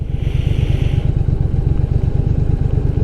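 A group of Honda motorcycles rides by close and loud, with rapid thumping engine pulses that pound steadily throughout, plus a brief higher whine early on. No one talks.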